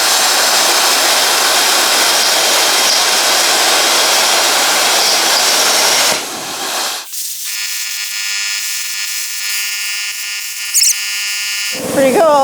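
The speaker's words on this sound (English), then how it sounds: "this is my first time ever using a plasma cutter, so I've got my machine set up to 30 amps and 80 psi" An Arccaptain CUT50 plasma cutter runs at 30 amps and 80 psi on metal, giving a loud, harsh rushing hiss for several seconds that cuts off into a steady high electronic whine.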